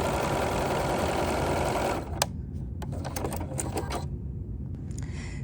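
A sewing machine runs at steady speed stitching a stitch-and-flip quilt block, a loud continuous mechanical whir, then stops abruptly, leaving scattered clicks and handling taps.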